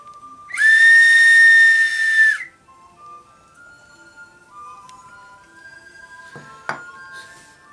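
A shrill, steady whistle blown in one long note from a bird-shaped whistle from Peru, then softer wavering whistle tones and a brief clink near the end.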